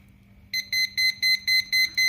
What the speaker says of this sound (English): that's the first bit of beeping